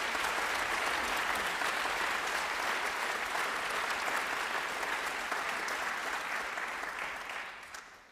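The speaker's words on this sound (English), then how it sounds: "Please give all the performers another round of applause." Audience applause for performers at a youth brass band championship results ceremony, a steady, dense round of clapping filling the hall for about seven seconds before fading out at the end.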